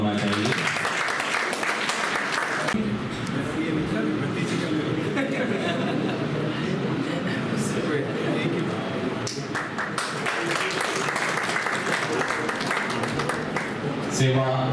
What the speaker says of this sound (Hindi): राजेश इंद्र जी के लिए तालियां होना चाहिए।